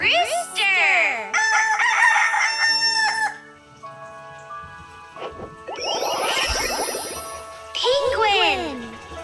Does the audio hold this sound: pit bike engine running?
no